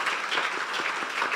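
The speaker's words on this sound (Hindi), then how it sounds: "इस बच्चे के लिए मैं चाहता हूं जोरदार तालियां बजाएं।" Loud applause for a child rings out from a church congregation, with dense, steady clapping from many hands filling the whole short stretch.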